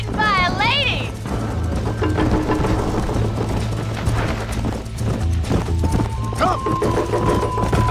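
A horse gallops in Red Dead Redemption, rhythmic hoof clip-clops pounding under game music and effects while a voice calls out briefly near the start.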